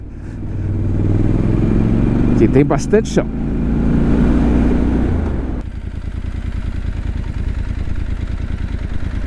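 Motorcycle engine running steadily on a dirt road through sugarcane fields, a continuous mid-range drone throughout, with someone talking over it in the first half.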